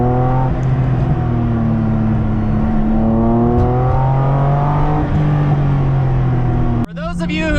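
A loud, steady drone from an RWB Porsche air-cooled 911 engine heard from inside while driving, with the pitch rising and falling through gears and a brief sharp break near the end.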